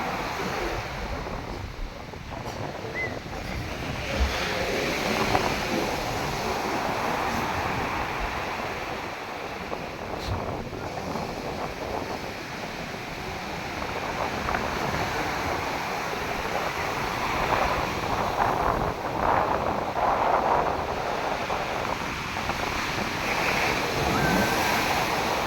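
Sea waves break and wash onto the shore in a continuous, loud roar, with wind buffeting the microphone and faint voices in the distance.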